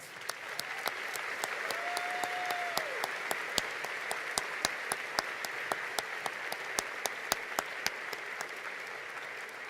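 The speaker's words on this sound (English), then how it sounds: "Let's please give them a round of applause." An audience at a high school graduation ceremony applauds with steady, fairly distant clapping that holds at an even level throughout, with a brief whistle-like tone early on.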